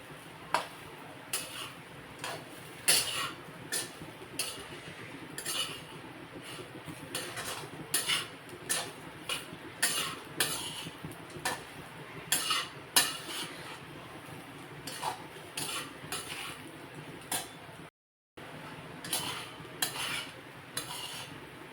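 Okra (bhindi) frying crisp in a pan on low heat, stirred with a spatula: quiet, repeated scraping taps and clinks in an uneven rhythm over a faint sizzle.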